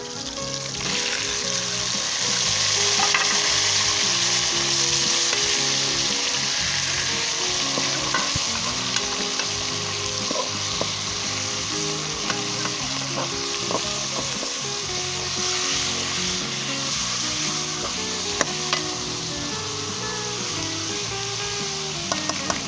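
Beef mince (qeema) fries and is stirred in a pan with dried coriander, cloves, black pepper, cumin, turmeric and green chillies, giving a steady close sizzle with repeated scraping and stirring strokes and no talk.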